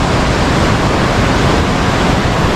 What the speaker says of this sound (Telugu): ఫుల్ నిండిపోయింది, అందుకు గేట్ ఓపెన్ చేశారు. వాటర్ ఫ్లో మొత్తం కిందికి రా వెళ్ళిపోతుంది.